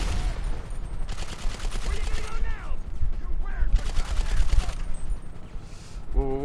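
Video game gunfire: sustained bursts of rapid shots over a dense, noisy game soundscape, loud and close, with a player's voice speaking briefly over it.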